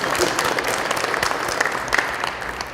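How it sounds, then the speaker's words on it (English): Banquet audience applauding for a basketball awards event, dense steady clapping from a large crowd filling the room at full volume throughout, with some voices mixed in. "Please give yourself a nice round of applause as well today"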